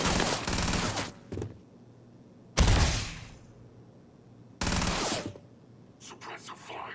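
Gunfire in the sci-fi game Starfield comes as three loud, close bursts of shots spaced a couple of seconds apart, each decaying quickly, with a few faint sharper crackles at the end.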